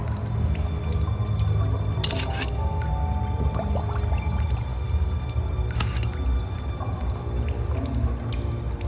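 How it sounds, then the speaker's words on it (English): Algae-filled seawater is scooped into a bottle inside a flooding cave in the Foolish Mortals video game, giving wet squishing, dripping and filling sounds over a steady low watery rumble. "I scooped up some of the algae water."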